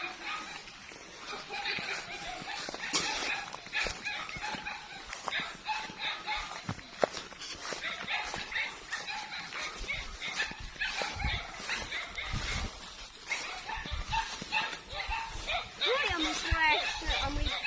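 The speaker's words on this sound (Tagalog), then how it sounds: "OMG may dog pa na humahabol." A dog barks and yips while chasing on a provincial farm path in Dulag, Leyte, its sharp calls coming in bursts under excited, overlapping human talk and shouting.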